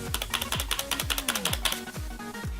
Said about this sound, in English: Here is a spacebar sound test.